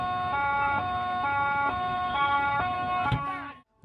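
An ambulance siren on a road holds a steady harmonic tone that steps up and down at regular intervals, loud and close, then cuts off abruptly near the end.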